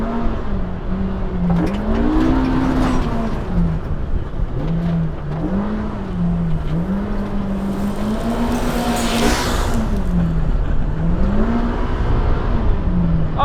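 A 2025 Polaris RZR Pro R side-by-side engine accelerating hard in sport mode, its loud continuous drone climbing and dipping in pitch through repeated rev swells, with a whirring overtone.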